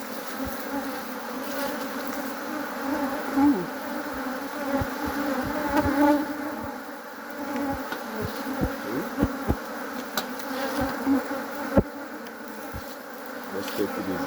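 Honeybees buzz thickly around an open beehive during an inspection, a dense steady drone close by with individual bees swelling louder as they pass near.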